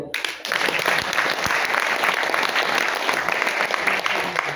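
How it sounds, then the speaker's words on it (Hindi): A large crowd at a public political gathering in Wardha breaks into sustained applause, dense and steady clapping that starts abruptly and holds at full strength throughout, with faint voices mixed in. "बजाओ अपने लिए तालियां।"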